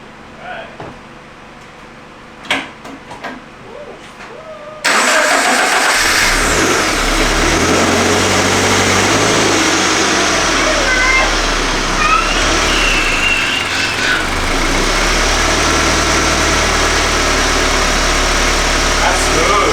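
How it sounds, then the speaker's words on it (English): After a few seconds of quiet clicks, a car engine cranks and catches, then runs loud and close with revs rising and settling into a rough idle. "This will be our final first startup."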